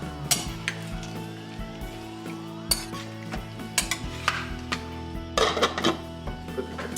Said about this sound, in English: Give it one last stir.